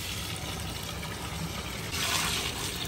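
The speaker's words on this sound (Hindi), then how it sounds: "इसमें पानी डालेंगे।" Water poured from a tap or hose into a large pot for a 30 kg batch of Kabuli pulao, a steady close rushing gush that swells louder near the end, with no talking.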